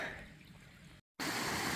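Creek water rushes steadily at a rocky stream crossing on a Great Smoky Mountains hike, heard close and fairly quiet. A short dropout breaks it, and it returns louder.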